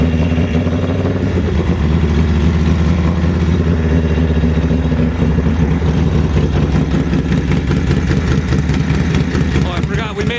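A Harley WL/WR street tracker motorcycle engine runs loud and steady after kick-starting, a rumbling idle that continues throughout with a slight rise in rhythm toward the end.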